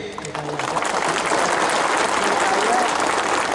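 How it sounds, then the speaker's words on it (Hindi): A crowd at a political rally in Sabroom applauds, a dense wash of many hands clapping that builds quickly and holds steady to the end. "सब इनको भी एक बड़ा ताली दीजिए।"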